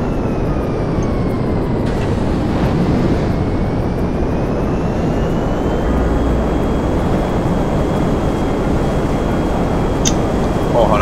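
A fixed-wing airplane's engines drone steadily in GTA 5 as the plane comes in to land at a military base, a loud, unbroken roar with a slowly shifting pitch and a voice speaking over it.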